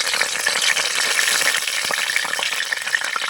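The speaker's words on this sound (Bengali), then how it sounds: "দিয়ে দিব তেজপাতা আর 2টা শুকনো লঙ্কা ফাটিয়ে দিচ্ছি" Bay leaf and two dried red chillies crackling in hot oil while cooking dalia khichuri, a steady close sizzle with small sharp pops scattered throughout, no voices.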